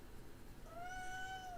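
A small cat gives a single drawn-out meow, faint and slightly distant indoors, rising and falling over about a second.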